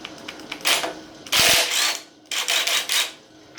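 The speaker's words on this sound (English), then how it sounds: "we're going to try our luck with the cordless rigid" A Ridgid cordless impact wrench loosens an engine bolt on a 4.7 stroker engine, giving a few loud, rapid hammering bursts separated by short pauses, close up and with no talk.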